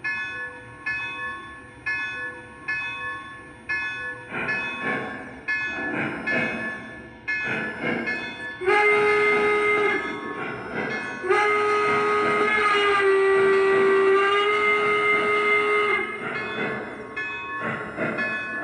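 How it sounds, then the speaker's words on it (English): A steam locomotive chuffs in regular bursts at a model railroad, then a loud steam whistle blows in long sustained blasts, with a bell ringing as the train pulls away. "It's a really mighty steam engine here."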